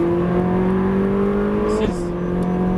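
A Ferrari 458 Italia accelerates on the Nogaro circuit, its engine note climbing steadily from inside the car, then dipping briefly at a gear change before pulling on; a voice talks over the engine.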